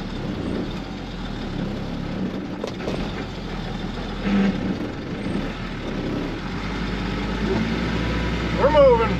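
A truck hauling a load of black walnut logs, its engine a low continuous rumble that builds slightly toward the end, with a brief air-brake-like hiss near the close.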